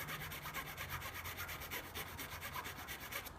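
A small hand file rasps in steady, quick back-and-forth strokes as it trims a plastic part of a Tamiya Mini 4WD VS chassis. The scraping is close and continuous, with no talking.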